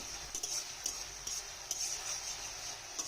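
Noodles fried in a pan with a little cumin give a quiet, steady sizzle, with soft scraping stirs and light utensil taps recurring every half second or so.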